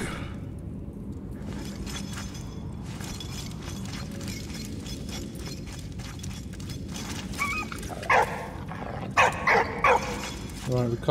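A dog barks and yips in the WWI video game Valiant Hearts, sharp bursts in the last few seconds over a constant game rumble with mechanical clatter.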